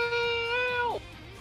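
A Palico cat companion in the video game Monster Hunter World gives one clear, drawn-out meow that bends downward at the end, close and loud over low game background.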